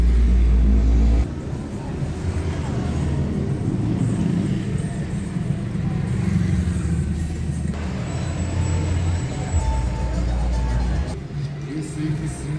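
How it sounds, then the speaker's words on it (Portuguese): Congested morning traffic on the main avenue of Arapongas, with cars idling and creeping at a traffic light, a heavy low engine rumble throughout with louder vehicle surges near the start and around the ninth second. "tráfego congestionado. O sinaleiro fecha, abre, fecha e os carros continuam aqui."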